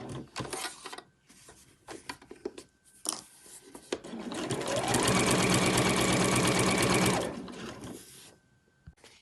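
A sewing machine stitching a sewing machine cover runs in one loud, continuous burst of rapid needle chatter lasting a few seconds, preceded and followed by softer handling clicks and rustles of fabric.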